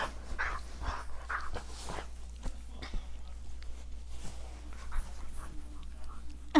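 A puppy pants in quick, soft, breathy bursts close by, with faint whimpers and a few small knocks and shuffles in a quiet room.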